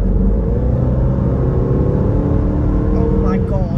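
A V8 Range Rover engine running in sport mode, a loud deep continuous rumble with rising harmonic tones as it revs, heard from inside the car with people talking over it.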